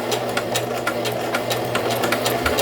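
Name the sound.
sewing machine sewing dress collar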